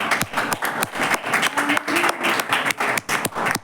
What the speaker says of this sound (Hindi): परमेश्वर की महिमा करेंगे तालियों के साथ।